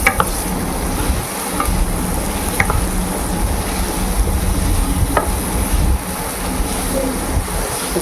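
Vegetables salted for cheese pasta hiss and sizzle steadily in a hot pan, with a few sharp scrapes and clicks from stirring breaking through the constant frying.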